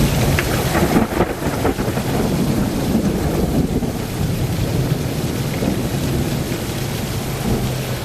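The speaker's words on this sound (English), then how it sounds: "Plenty of lightning, and listen to the thunder." Thunder rumbles through a nighttime thunderstorm with steady rain and gusty wind buffeting the microphone, a loud continuous roar with a sharper crack near the start.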